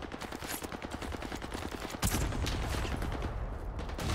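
Rapid automatic gunfire in Call of Duty Warzone, a steady rattling burst that grows louder and denser halfway through and keeps going without pause.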